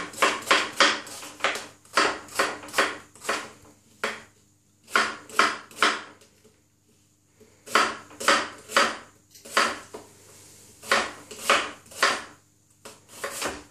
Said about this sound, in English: Cut your onions however you want.